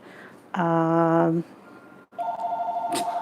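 A phone rings indoors, one long electronic tone burst followed after a short pause by a second steadier ringing tone, clear and close over quiet room noise.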